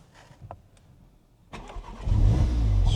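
A damaged Mk3 Audi TTS engine cranks and catches, starting straight up after a few faint clicks, then settling into a loud, close, steady rumble.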